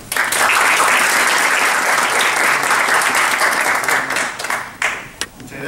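Audience applause at an education colloquium before a debate: loud, dense clapping from a crowd that holds steady, then thins into a few scattered claps before ending.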